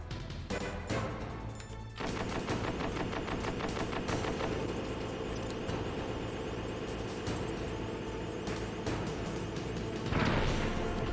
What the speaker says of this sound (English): we're taking down a tank with grenades